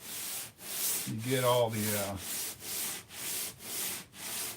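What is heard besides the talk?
sanding a foam model wing with sandpaper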